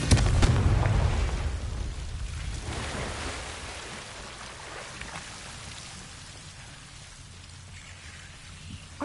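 A Confringo fire spell explodes in Hogwarts Legacy, a loud hissing, crackling burst at the very start that slowly fades into a softer rushing noise over several seconds.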